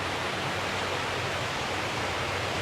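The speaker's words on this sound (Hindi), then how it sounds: "ऐसा लगता है कि आप बड़ी कोई नेचर वाली साइड पे पहुंच गए हैं, जो पानी का जो शोर आ रहा है।" Water flows steadily through an indoor channel inside a mosque in Qatar, a constant broadband rushing hiss like a small stream or fountain, even and unbroken for the whole stretch.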